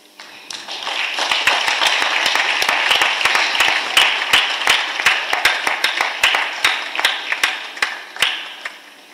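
Applause from a church congregation at a pastor's installation ceremony, dense steady clapping that builds, holds, then thins into scattered individual claps before fading.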